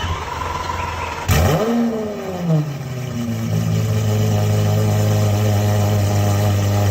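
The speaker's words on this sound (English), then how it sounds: "like a cold start on a car" A car engine cranks with a sharp burst of starter noise, catches on a cold start, and its revs fall away into a steady, droning idle that holds to the end, loud and close with no voices.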